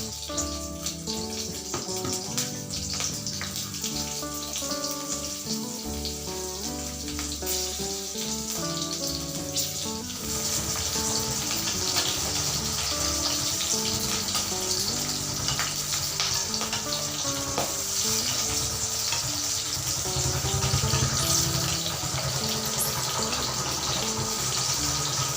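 Nigella seeds, chopped garlic and slit green chillies fry in hot oil, making a dense, continuous crackling sizzle that stays loud and steady throughout, growing slightly fuller midway.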